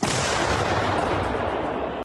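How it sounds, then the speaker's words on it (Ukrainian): Heavy self-propelled artillery fire booms loudly at close range, its deep rolling rumble holding steady for about two seconds before cutting off. "Після кожного пострілу бійці перезаряджають самохідну артилерійську установку"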